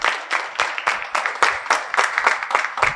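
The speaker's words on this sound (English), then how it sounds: "I like this lady starting it off with a round of applause" Clapping starts off audience applause for a veteran during a senior adult resources program in Ohio: a steady, evenly spaced rhythm of sharp claps, fairly close and heard alone.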